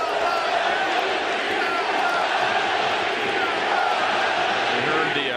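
Baseball crowd at the Oakland Coliseum during an Athletics game, a dense, steady roar of many voices with chant-like swells, loud and continuous throughout with no clear break.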